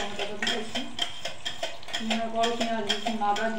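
Capsicum being stirred and fried in a pan with tomato, onion, garlic and ginger: a spatula scrapes and clinks against the metal in a steady rhythm over a soft sizzle, with a voice talking faintly underneath.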